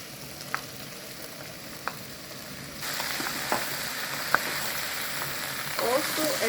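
Cubed beets tipped into a pot and starting to fry, a soft steady sizzle that grows fuller partway through, with a few faint clinks and stirring noises.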